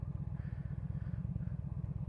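A motorcycle fitted with a Cobra exhaust pipe rumbles with a steady, low, throbbing engine pulse, heard alone and fairly close for a couple of seconds.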